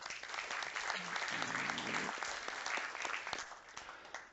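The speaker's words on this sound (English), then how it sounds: "let's give a big warm round of applause then to Daniel Constantin Mierla" A conference audience gives a warm round of applause for a speaker at a VoIP technology event, dense steady clapping that swells and then fades out over a few seconds.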